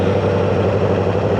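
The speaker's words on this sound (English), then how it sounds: "Probably just hear more of the engine if anything." A faltering Honda Fireblade's engine burbles steadily at low road speed, a close, continuous low rumble with some wind noise and no talk.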